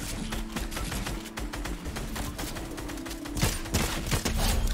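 Rapid gunfire bursts in a building-and-shooting video game, repeated sharp shots mixed with clattering construction clicks, close and loud with no talking.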